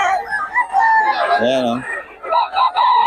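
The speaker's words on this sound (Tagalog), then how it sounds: "Daming manok dito, mga idol." Chickens and roosters at a morning livestock market in Bocaue, with a rooster crowing loudly nearby and hens clucking around it, while someone talks briefly over the birds.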